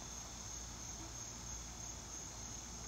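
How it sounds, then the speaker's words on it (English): Cicadas buzz in one continuous, shrill electric drone that stays level and unbroken throughout, with no voices. "Those cicadas sound electric."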